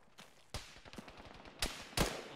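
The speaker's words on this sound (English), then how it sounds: "He's shooting at me." Short bursts of video-game gunfire from ShackTac Arma combat, a few sharp reports and a quick rattle of rapid shots, moderately distant and fairly quiet, with no talk.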